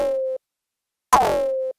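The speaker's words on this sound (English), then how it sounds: "we can hear that the pitch bend results in a lot of distortion" A synth sample made from a custom Serum wavetable is played back with pitch bend, giving two short distorted tones: a brief steady buzz, a pause, then a harsher, noisier burst that settles into a held pitch and cuts off.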